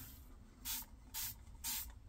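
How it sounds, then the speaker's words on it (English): Three short bursts of paint spray from a trigger bottle onto a milk bucket, evenly spaced, each a bright airy hiss over a quiet background. "I'm going to take my spray bottle"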